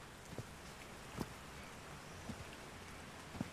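Rain falls in the game Call of the Sea as a soft, faint, steady hiss, with a few isolated light taps of drops or steps at spaced intervals.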